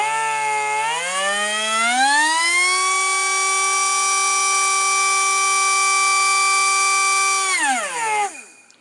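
Small air die grinder spinning a grinding stone, a whining tone that rises as it spins up, holds steady and loud for several seconds, then drops as it winds down.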